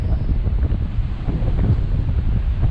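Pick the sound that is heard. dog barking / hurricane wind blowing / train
hurricane wind blowing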